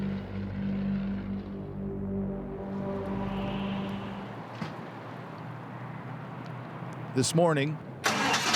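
A WWI biplane's propeller engine runs with a steady, droning hum that fades as a narrator begins speaking over it.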